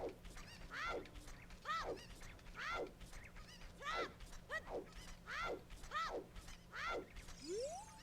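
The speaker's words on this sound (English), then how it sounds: "you're just accompanied by the sonorous tones of chickens and Link noises" Chickens cluck in a repeated run of short calls, roughly one a second, at dawn in the Ocarina of Time game world, heard fairly close and steady over a faint low hum.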